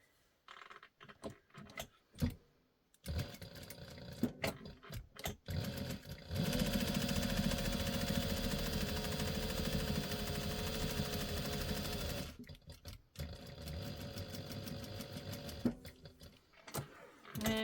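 A sewing machine stitches the quilted lines of a fabric bowl cozy in one long steady run, preceded by short stop-start bursts and followed by a few brief clicks and handling noises.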